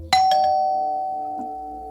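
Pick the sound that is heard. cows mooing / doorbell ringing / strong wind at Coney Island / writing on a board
doorbell ringing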